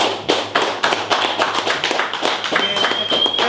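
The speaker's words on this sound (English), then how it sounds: "Everyone is clapping." A small group clapping in a radio studio, a rhythmic run of sharp close claps at a steady pace, with a thin tone entering near the end and faint voices underneath.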